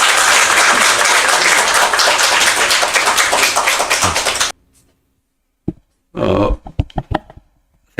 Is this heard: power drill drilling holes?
no